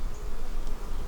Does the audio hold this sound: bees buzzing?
yes